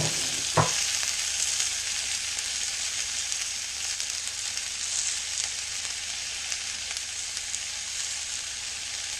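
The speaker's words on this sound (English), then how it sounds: "When your pan is really hot, carefully lay the loin of venison in the middle" A venison loin sears in a really hot pan, giving a steady, loud, close hiss of frying that barely changes, with a single soft knock near the start.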